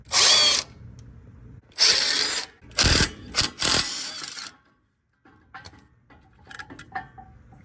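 Power tool bursts loosen the front brake caliper bolts on a Lexus GX 460, four loud whirring runs with short gaps, then quieter clicks and clanks of parts being handled.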